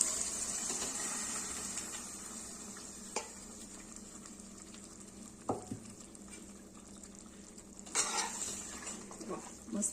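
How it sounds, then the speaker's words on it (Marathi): Cooked chickpeas for Delhi-style chhole being stirred into fried masala in a pan, with a steady low sizzle under scraping spoon strokes and a few sharper clinks of utensil against the pan. "तर यामध्ये आपण घालणार आहोत हे शिजवलेले छोले."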